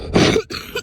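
A person who is coming down sick coughs twice, a loud, harsh burst followed by a shorter second one, close up with no talking.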